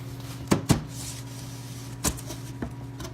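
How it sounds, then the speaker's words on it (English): An antique wooden drawer bottom slides back into its groove, producing a few close, sharp wooden knocks and bumps over a low, steady background hum. "we're just sliding it, guys, right back into that groove that's in the drawer bottom"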